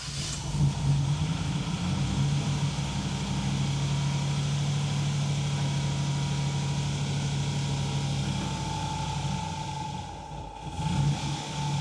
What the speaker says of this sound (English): This doesn't like to idle.